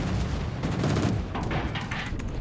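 Bombs burst during a naval battle video game, a continuous loud barrage of booming blasts and crackling impacts layered over one another for a couple of seconds with no pause.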